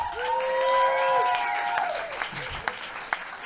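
Applause and cheering from the audience at a benefit concert for Amnesty International, clapping with a few sharp claps standing out, partly under someone speaking and tonal sounds early on.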